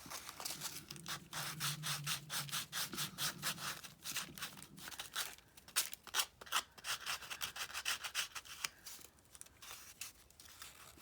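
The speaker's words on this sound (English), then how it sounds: "so I won't scratch it up sanding and getting all these little gritty pieces on my glass mat." Rhythmic back-and-forth strokes of hand sanding wood, a quick scratchy rasp repeating steadily at close range with no voices.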